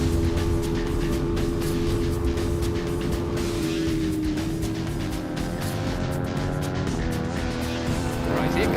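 Racing motorcycles scream past on a closed public-road circuit at the NW200 road race, with high revving engine tones rising and falling as they pass, continuous and loud, and commentary running underneath.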